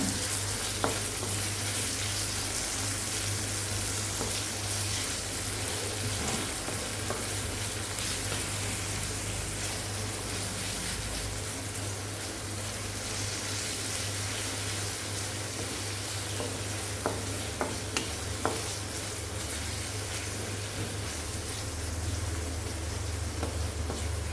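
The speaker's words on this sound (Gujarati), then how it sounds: "1 નાની કાપેલી ડુંગળી અને બરાબર મિક્સ કરી લેશું આપણે આ વઘારને" Chopped onion is stirred into a sizzling tempering for a buttermilk-based fried roti dish, giving loud continuous frying hiss with scraping stirring sounds throughout.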